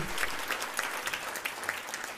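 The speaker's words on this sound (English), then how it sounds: "While you're applauding," Audience applause for a band at an introductory talk on aging, a steady dense wash of clapping from many hands holding at an even level throughout, with no speech over it.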